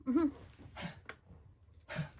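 A dog makes a short whimpering whine followed by a few quick, breathy sneezes, close by with no talking.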